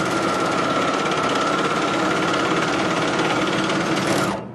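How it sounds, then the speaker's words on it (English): A serger sews an overlock stitch on knit fabric, a loud steady high-speed mechanical whir that runs without a break for about four seconds and then stops abruptly, with no talking. "Now we're going to do our overlock stitch"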